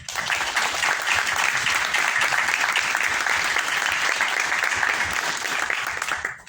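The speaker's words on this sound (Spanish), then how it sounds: "Recibimos con un cálido y fuerte aplauso" Warm, sustained applause from a large audience, dense and steady throughout before fading at the very end.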